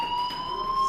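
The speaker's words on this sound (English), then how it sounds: "Hey, do you hear that fire alarm?" Fire alarm ringing inside the video game Life is Strange, a steady electronic tone held without a break for the whole moment, with no talking over it.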